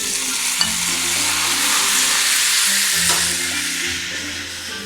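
Chicken for three-cup chicken fries and is stir-fried in a pan, with a loud, steady sizzle and repeated scraping strokes of a spatula, close up and with no talk.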